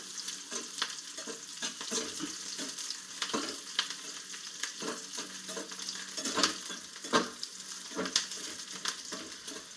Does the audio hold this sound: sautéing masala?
yes